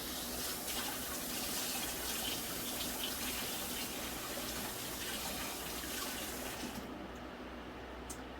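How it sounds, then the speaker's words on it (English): Tap water runs steadily over an onion being rinsed in a sink, a continuous close splashing rush that cuts off near the end. "Rinse this onion."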